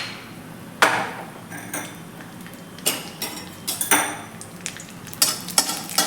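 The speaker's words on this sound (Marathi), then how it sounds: "हे जरा आपल्याला हलकेसे परतून घ्यायचे आहे गॅस बारीकच ठेवायचा आहे" Almond slices sautéed in ghee in a kadai over low gas, with sharp metallic clanks and scrapes of a spatula against the pan at irregular intervals over a faint frying hiss.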